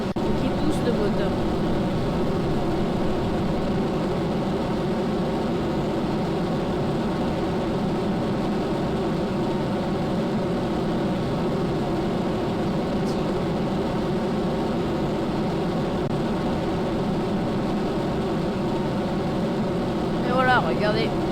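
Rocket engine thrust in the Kerbal Space Program game: a steady, loud droning roar with layered humming tones that holds unbroken throughout, with a brief rising whine near the end.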